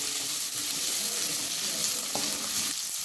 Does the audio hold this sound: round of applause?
no